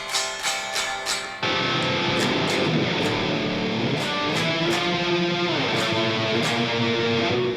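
Clean electric guitar with a few picked notes, then sustained ringing chords strummed repeatedly at moderate volume, no voices.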